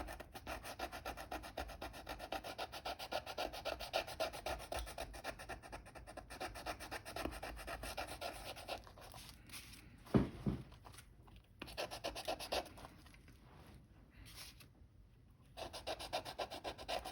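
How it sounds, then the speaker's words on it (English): Eraser rubbed back and forth over circuit board traces inside a Minolta X-700 camera: soft, close, rapid scrubbing strokes in a steady rhythm, with brief pauses and a small knock partway through. "I'm gonna go ahead and use my eraser to clean the traces."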